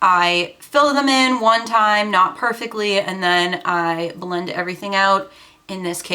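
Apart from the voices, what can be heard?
None of the usual background noises is heard.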